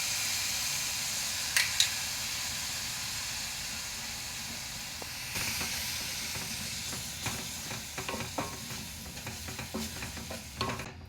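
Quarter cup of slightly sour yogurt is stirred into sizzling pepper chicken masala over medium flame, with a soft steady hiss and a run of close scraping strokes toward the end.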